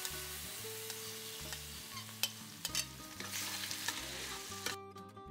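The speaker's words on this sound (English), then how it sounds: "You want to place your lobster meat side down first to get a nice little crust on there" Lobster meat seared side down in a pan for Spanish seafood paella, giving a steady loud sizzle with crackles and pops, under soft background music, until it suddenly cuts off.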